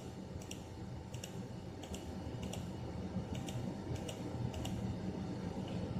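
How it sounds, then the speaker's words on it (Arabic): A computer mouse clicks while a circle is drawn in CT brain imaging software, giving a few faint, close clicks spaced irregularly, some in quick pairs, over a low room hum. "بتبدا تحرك معانا كليك واحده، تبدا ترسم دايره حوالين الاسكال"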